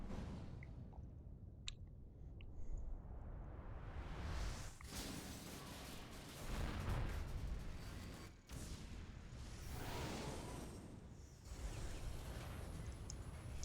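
In a video game set in space among floating debris, an explosion gives a broad, roaring rumble that swells and surges in several waves, with whooshing bursts over a low boom, all heard faintly.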